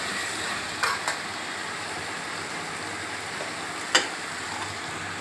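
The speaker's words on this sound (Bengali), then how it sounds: "এবার এটাকে আপনাকে ভালো করে কষতে হবে।" Spices for chicken tehari, including Kashmiri chilli, frying in a pan as a steady soft sizzle, with two light stirring clicks near the start and one sharper scrape about four seconds in.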